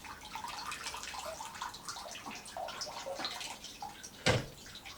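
Water is poured over freshly repotted orchid potting medium for a Zygopetalum crinitum, a soft continuous trickle and patter with a brief sharper splash near the end, close and fairly quiet.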